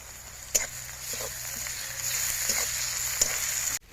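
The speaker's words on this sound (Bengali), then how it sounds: "আদা রসুন ভাজা হতে থাকুক" Ginger garlic paste frying in oil gives a soft, low sizzle close by, with a few sharp utensil clicks and scrapes and a brief clunk at the end.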